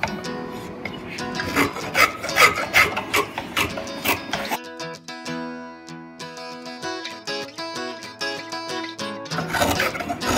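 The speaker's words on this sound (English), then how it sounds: "I'll just kind of take my spoke shave and kind of hook a little piece of wood" A spoke shave carving a red oak wand: dense, scratchy shaving strokes at the start and end, broken in the middle by a few seconds of ringing, tonal sound.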